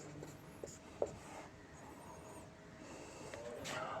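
Pen scratching across paper as a Class 10 maths problem on linear equations is worked out, quiet and close, with a few brief taps and strokes over low room noise.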